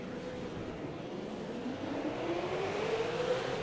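V8 Supercars engines rising in pitch as revs build at a race start at Watkins Glen in a racing video game, a steady whirring drone that climbs and grows slightly louder, with no talk.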